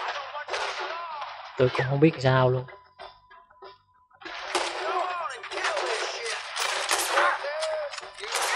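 Gunfire in the video game Red Dead Redemption 2, several bursts of rapid sharp shots separated by a pause, with someone talking between and over the volleys.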